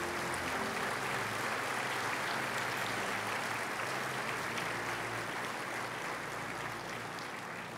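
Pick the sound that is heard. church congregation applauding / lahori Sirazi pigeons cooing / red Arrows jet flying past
church congregation applauding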